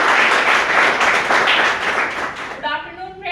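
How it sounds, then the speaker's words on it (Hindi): Audience applause at a business plan presentation event, dense steady clapping that fills the room and gradually thins out toward the end as a voice starts. "एक बार जोरदार तालियां आरती कश्यप जी के लिए।"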